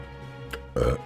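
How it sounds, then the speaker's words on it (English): A loud, short burp close to the microphone, preceded by a brief faint noise, over a low steady background hum during an ARK: Survival Ascended game stream. "is that necessary to burp like that?"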